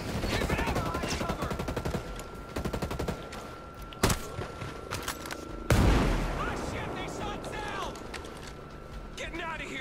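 A silverback gun firing in Ghost Recon Breakpoint gives rapid automatic bursts up front and loud sharp blasts later, with mechanical clatter between them and a voice speaking over the shooting.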